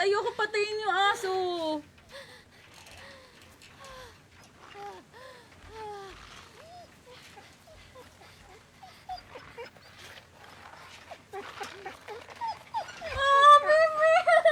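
Dog whimpering and whining in The Walking Dead Telltale video game, Season 2, a series of high, wavering cries that start loud, grow softer and more broken in the middle, then rise again in strained yelps near the end.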